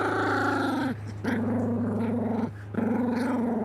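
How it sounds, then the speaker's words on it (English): A puppy growls close to the microphone in a long, steady, rumbling stretch, broken by two brief pauses for breath and continuing loud throughout. "Hold on a sec, I got a puppy."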